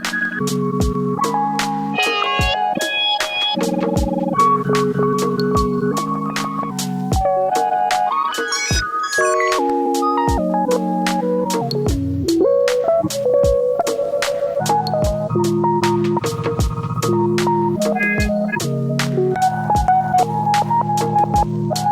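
A looping synth texture recorded into a QU-Bit Electronix Stardust Eurorack tape looper with varispeed, pitched tones shifting and warbling in speed, punctuated by regular clicks, continuous and fairly loud with no talking.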